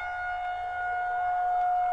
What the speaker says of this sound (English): the tornado siren is literally like a few hundred, maybe a quarter mile away from my house